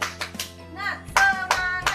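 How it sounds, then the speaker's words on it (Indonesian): A teacher leads a rhythmic hand-clapping chant before a lesson, a handful of crisp separate claps in a patterned beat with her voice chanting between them. "kita lakukan tepuk semangat ya"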